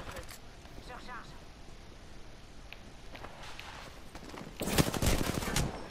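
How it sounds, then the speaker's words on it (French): Distant bursts of automatic gunfire in the video game Apex Legends, faint at first and then louder rattling volleys near the end, mixed with in-game footsteps and player talk. "ils sont là-bas, j'entends des tirs"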